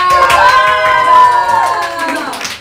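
Audience at a live rehearsal cheers and claps for a legendary guest singer, with loud sustained whoops and shouts over clapping, gradually easing off.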